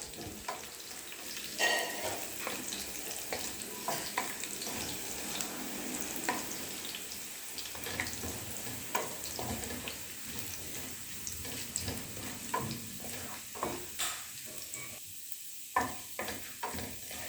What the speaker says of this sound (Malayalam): അതിലേക്ക് നമുക്ക് സവാള ഇട്ട് കൊടുക്കാം